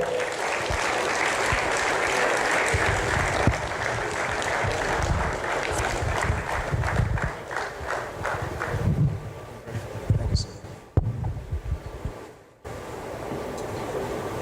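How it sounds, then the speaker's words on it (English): A crowd at a book launch for General Lucky Irabor's book on Nigeria and Boko Haram gives him a big round of applause, dense clapping that runs for about ten seconds, then thins out and fades into room noise. "Please, for the biggest applause of the afternoon, let us welcome General Lucky Irabor"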